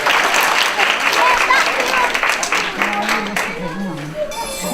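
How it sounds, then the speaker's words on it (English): A round of applause from an audience at a live entertainment event, dense clapping at first and tapering toward the end while a voice begins speaking underneath. "Let's give them a round of applause to get them all ready"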